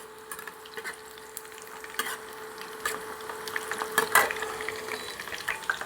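Whole cumin seeds crackle in hot oil on an induction cooktop, a soft steady sizzle with scattered sharp pops and light utensil clicks, close by and fairly quiet.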